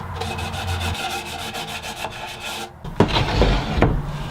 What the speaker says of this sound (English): I'll wrap up the sanding,